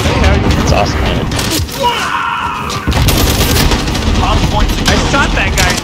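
Chaotic gunfire in a Call of Duty match with eight-person teams, dense bursts and rapid shots filling the whole stretch with a brief lull midway, loud and close, with voices talking over the battle.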